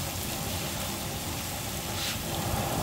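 Minced silver carp filling fries in a pan, giving a steady, even sizzling hiss throughout, with no voices.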